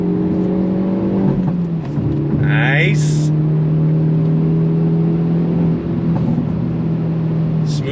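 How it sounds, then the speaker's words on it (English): Exhaust pops and bangs crackle from a 2023 Hyundai Elantra N over its loud, steady engine drone, with a few sharp bursts standing out; a voice speaks briefly. "Love those pops and bangs."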